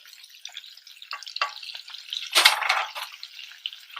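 Ground spices such as turmeric, chilli, coriander and cumin sizzle and fry in a pan over a low flame for a makhani butter gravy, a steady crackling hiss with a brief louder flare midway.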